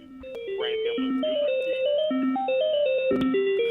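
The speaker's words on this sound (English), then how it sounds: "That's somebody's phone." A phone's ringtone plays loudly during a talk radio show, a repeating electronic melody of stepped tones that runs throughout.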